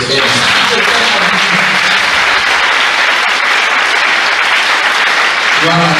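Church congregation at a Sunday thanksgiving service bursts into loud, sustained applause and clapping for the Lord, filling the room for several seconds with voices rising briefly over it near the start and end.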